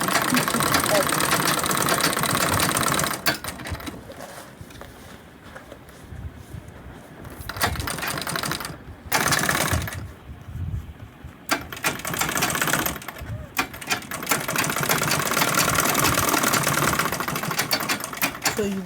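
A sewing machine stitches a bag in several loud, close runs of rapid whirring, broken by short pauses as the fabric is turned.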